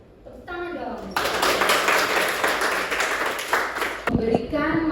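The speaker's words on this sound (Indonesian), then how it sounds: "Tepuk tangan dong." An audience at an Indonesian nursing lecture bursts into clapping, a dense burst of many hands lasting a few seconds, with a voice speaking just before and after.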